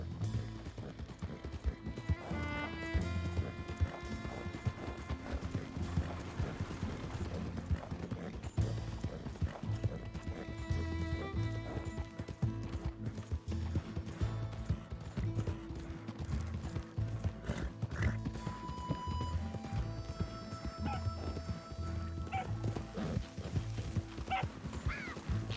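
A horse in Red Dead Redemption 2 trots along in a steady clip-clop rhythm of hooves, close and continuous, with tack jingling and an occasional snort or whinny over soft background music.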